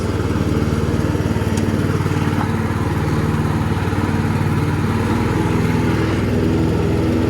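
A Jonsered lawn mower engine runs close by with a loud, steady, unbroken drone that holds an even pitch throughout.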